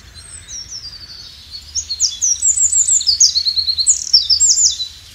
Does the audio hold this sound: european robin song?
yes